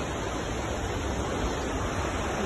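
A waterfall in a valley near Sautada, Patoda in Beed, Maharashtra, pours in a dense, constant broadband roar, loud and unbroken throughout with no voices.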